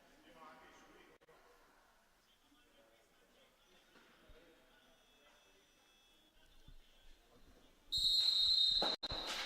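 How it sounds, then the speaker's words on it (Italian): A referee's whistle at a Serie A2 roller hockey match between Hockey Trissino and Hockey Pico sounds near the end as a loud, sustained shrill tone, briefly cut off and then resuming, following quieter arena noise and commentary. "pronti per il fischio del direttore di gara, il signor Luna."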